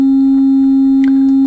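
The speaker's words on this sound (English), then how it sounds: "So sine wave is our sort of our pure signal," A loud, steady pure sine wave tone from the VCV Rack software synthesizer, holding one even pitch without variation, heard alone.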